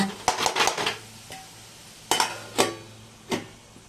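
Several sharp metallic clanks and clinks of a lid and pan, in irregular bursts, close by with faint background hiss between them.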